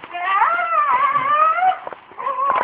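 A dog whines and howls in a long, wavering, tonal cry, near and fairly loud, breaking briefly before rising again.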